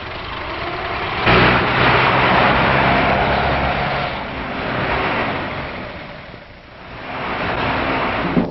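Loud engines roar and rise and fall in waves as cars speed past at an auto race from around 1915 to 1925, with a muffled, old-recording quality throughout.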